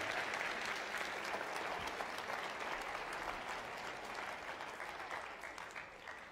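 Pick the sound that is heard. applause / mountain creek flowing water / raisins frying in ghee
applause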